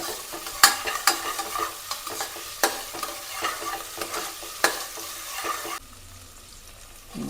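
Cumin, mustard seeds and onion fry in a hot pan, a soft sizzle broken by sharp scraping stirs at irregular intervals, close and alone before it drops to near quiet at the end.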